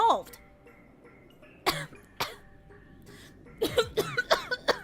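A voice acting out a character with tuberculosis gives a burst of several harsh, close coughs near the end, after sharp gasping outbursts and brief spoken words.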